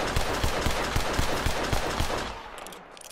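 Rapid double-action revolver shots in Red Dead Redemption 2, about a dozen sharp cracks in a fast, steady rhythm over a dense game-combat din, stopping near the end as the noise thins out.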